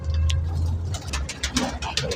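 Pigeons coo at a pigeon seller's shop, soft low throaty coos close by with a few sharper chirps and faint background murmur.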